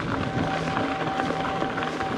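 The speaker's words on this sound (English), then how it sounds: "the wind is picking up now, which is making it even harder" Strong wind buffeting the microphone while mountain biking on a cross-country loop in Dorset, a continuous loud roaring rush with no clear breaks.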